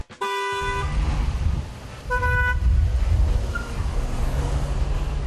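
Two car horn blasts ring out in city traffic around a learner driver's stalled manual car at a green light, the first long and the second shorter, over a steady engine and street rumble.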